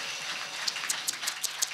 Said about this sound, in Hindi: एक बार मंदिर समिति के लिए जोरदार तालियां बजा दीजिए।